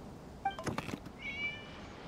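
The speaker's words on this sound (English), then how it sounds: "It was just a cat." A cat in Genshin Impact meows a couple of short, tonal times, followed by a longer drawn-out mew, fairly faint over quiet game ambience.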